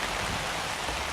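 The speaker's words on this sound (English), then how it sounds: "everything's raining. I mean, we're collecting water. You can probably hear it going" Steady rain falls over a backyard camp, a dense, even hiss with no break or voice through the short stretch.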